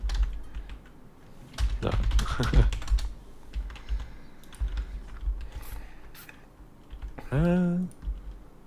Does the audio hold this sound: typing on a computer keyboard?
yes